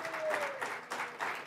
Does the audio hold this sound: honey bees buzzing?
no